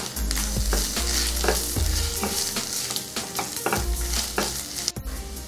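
Masala with turmeric, ginger garlic paste and salt is stirred in a pan for bread masala dosa: steady scraping spoon strokes, close and clear, over a continuous sizzle.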